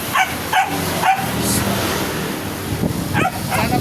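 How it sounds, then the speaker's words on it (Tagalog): Dogs that live on the street bark in short, sharp bursts, about five barks in two clusters, fairly close and loud over steady outdoor road noise. "Aso po."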